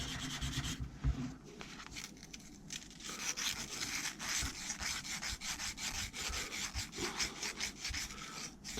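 Steady rubbing and scraping of sandpaper worked by hand over a small Ma.K Brickworks model figure, close and continuous with uneven strokes throughout.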